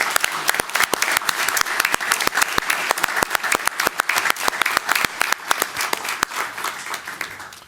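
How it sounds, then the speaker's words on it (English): Applause for transit workers at a Chicago Transit Board meeting, many hands clapping with sharp individual claps standing out and a steady crowd wash that thins toward the end. "So now let's give them all a round of applause for their service."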